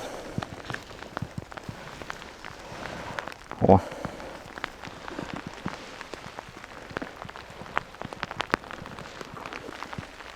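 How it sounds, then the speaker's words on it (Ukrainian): Heavy rain patters steadily on the forest floor and leaves, with a brief louder thump or footstep near the four-second mark. "О, вже дощара нормальний такий."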